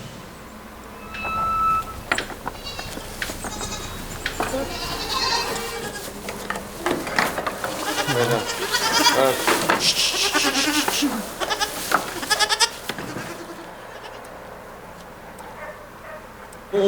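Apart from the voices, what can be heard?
goats bleating on a farm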